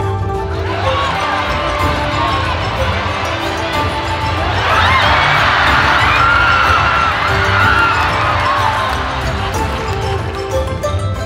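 A sumo tournament crowd in Japan, packed with fan clubs, roars and cheers during the final bouts, a dense wall of shouting that swells loudly midway and stays sustained.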